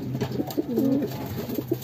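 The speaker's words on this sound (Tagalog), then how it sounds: "update ko na din kayo sa ating mga kalapate" Pigeons in a loft cooing close by, a few short soft coos followed by a longer rolling call, then more brief coos, with no talk.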